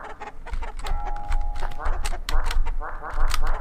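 Chickens clucking in the video game Lisa, a busy run of short clucks and squawks mixed with game sounds, moderately loud throughout.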